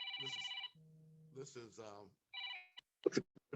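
An incoming phone call rings in short electronic bursts during an online meeting, then someone briefly speaks over the line.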